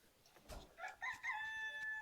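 A rooster crows nearby in a chicken coop, a rising then held call, with a few short clucks and soft bird sounds before it.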